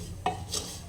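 Soaked broken wheat porridge is stirred and fried in a clay pot, giving a quick scrape and clack of the spoon followed by a softer sizzle, close up with no talk.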